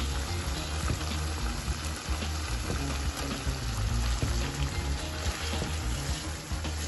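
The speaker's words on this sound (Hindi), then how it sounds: "अब हम इसमें ऐड करेंगे अपना फ्राई किया हुआ आलू।" Fried potatoes go into a hot pan of masala for a home-style Bengali rui macher jhol. A steady, close sizzle with wet stirring and scraping continues throughout, with no talk.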